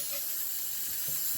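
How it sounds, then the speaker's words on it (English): Propellant gas hissing steadily from a punctured aerosol atomizer of DEET insect repellent with fragrance, a continuous close, fairly quiet broadband hiss lasting throughout with a few faint knocks near the end. "open the atomizer and make a hole to release the propellant gas"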